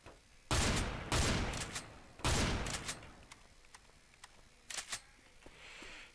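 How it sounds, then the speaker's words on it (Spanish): Chrome shotgun from Left 4 Dead 2 fired three times, each loud, close blast trailing off with a short rattle, followed by fainter clicks of reloading or pumping. "después tenemos la escopeta cromada, que es esta"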